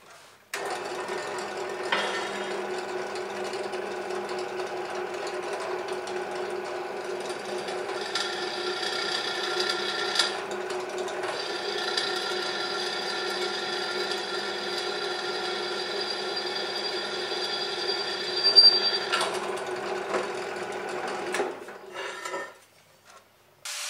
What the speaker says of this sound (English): What I might do is drill a hole there first, so I've got a nice little round corner to actually take the cutting disc to.